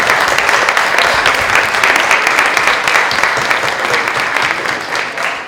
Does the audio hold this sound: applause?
yes